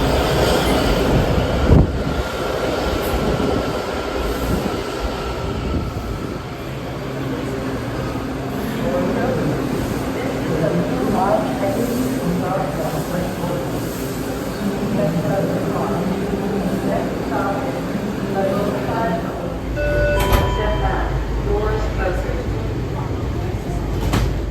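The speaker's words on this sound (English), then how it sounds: "I'm really excited to ride an express train on the Washington Metro" A Washington Metro express train runs through a skipped station with a continuous rumbling roar, rhythmic wheel clatter and occasional squeals of the wheels, heard from on board with some voice at times.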